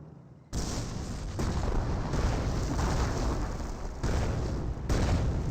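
Wehrmacht Werfer rocket artillery barrage in Company of Heroes, a loud, continuous rumble of overlapping explosions lasting several seconds, with fresh blasts hitting at intervals.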